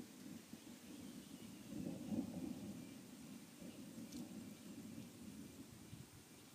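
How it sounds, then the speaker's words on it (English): A low, distant rumble of thunder rolls from a tropical thunderstorm, swelling briefly and then fading into a steady wash of rain and wind. "we might hear a burst of thunder in a second"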